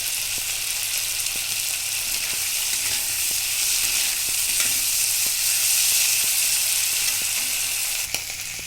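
Slit green chillies fry in a pan of hot oil, giving a loud, continuous close-up sizzle with occasional soft ticks from stirring, and no voices.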